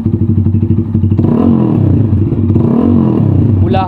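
A Sigma 250 motorcycle fitted with an SC Project exhaust and silencer idles with a loud, close, rapid thumping burble, then revs up twice in sharp rising-and-falling swells before a brief clatter at the end.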